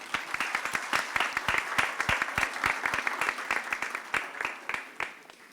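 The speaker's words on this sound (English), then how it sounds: "Let's give him a round of applause." A naturalization ceremony crowd claps in distinct, sharp individual claps that form a moderate round of applause, steady across the clip and fading slightly at the end.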